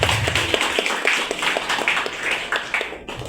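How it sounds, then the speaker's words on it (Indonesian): An audience at an MPR RI Four Pillars outreach gathering claps for Pak Ismail, a moderate, fairly even patter of many hands at a steady rhythm that fades out near the end. "Mari sama-sama kita beri tepukan aplaus untuk Pak Ismail."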